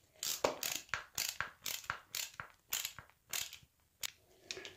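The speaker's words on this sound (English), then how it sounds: "You just shoot a couple of good sturdy screws in there." Sturdy screws driven into a driftwood mount, heard as a quick steady series of close, faint mechanical grinding pulses at roughly even intervals, with no talk.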